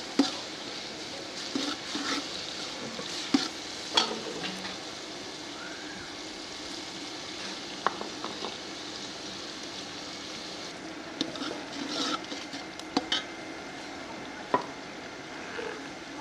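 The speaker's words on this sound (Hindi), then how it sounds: "टमाटरों का पानी खुश्क होने तक पकाएंगे।" Finely chopped tomatoes cook down in a pot for vegetable pulao, giving a soft steady sizzle with occasional scrapes and knocks of a spoon stirring, fairly quiet and with no talk.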